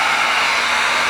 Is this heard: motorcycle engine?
no